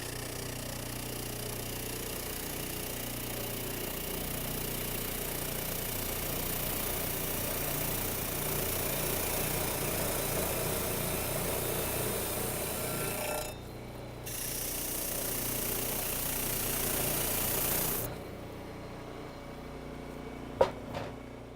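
A wood sander runs steadily with a rubbing, scraping texture as a rubber sponge cleaning stick is pressed against its clogged abrasive; the motor briefly dips near the end, then winds down.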